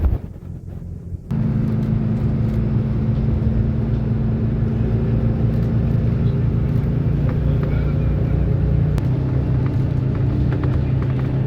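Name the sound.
F49 bus ride in Dubai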